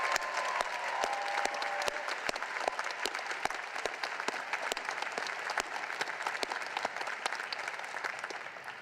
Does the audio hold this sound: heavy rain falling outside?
no